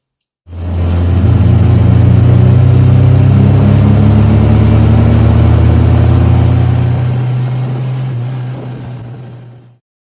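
A second car's engine idles steadily and loudly nearby, run as a jumper-cable power source for a 1975 Triumph Spitfire 1500, a deep constant rumble that eases slightly toward the end.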